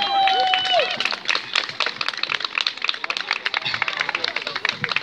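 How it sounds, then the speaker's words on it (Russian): An audience at a stage show applauds with dense, fast clapping that starts over a brief voice and then carries on alone, staying lively throughout. "Мой друг Павел Павлюк, Испания, аплодисменты."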